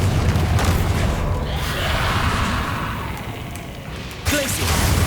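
A Bombarda explosion spell going off in Hogwarts Legacy gameplay, a loud booming blast with a dense rumbling low end that fades, then a sharp impact near the end.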